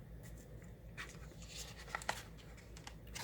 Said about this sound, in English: I'm just going to turn it over on the back side and trim the washi to the size